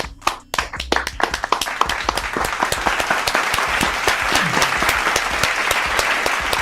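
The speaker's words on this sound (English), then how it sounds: "Can we clap it up?" A watch-party crowd following a New York Giants versus Dallas Cowboys game starts with a few sharp scattered claps that quickly swell into steady, dense applause, close and loud.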